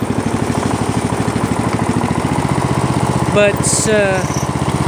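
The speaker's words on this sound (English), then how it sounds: "we'll start the snowblower just in case if there is a snowfall" A small engine starts and runs with a steady rapid chugging putter, close and loud, while a person speaks briefly over it.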